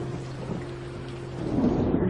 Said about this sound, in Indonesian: Hujan deras di luar